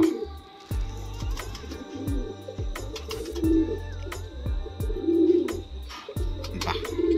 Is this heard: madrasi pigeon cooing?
yes